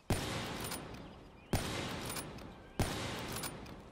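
Gunfire in Black Ops 3 on the Nuketown map: three loud, sharp shots spaced over a few seconds, each followed by a long noisy decay, with no talk.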